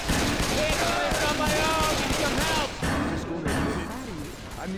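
Dense gunfire from Left 4 Dead 2 on Expert difficulty, a steady loud barrage of shots and bursts filling the scene, with players talking and shouting over it.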